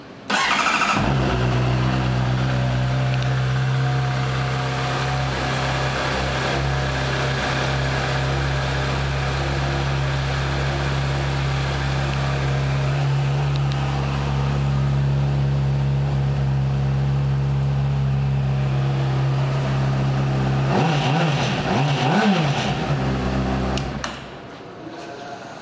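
A 2007 Honda CBR600RR motorcycle engine idling steadily and close, with a few rising revs mid-clip and a sharper throttle blip near the end before the engine cuts to near quiet.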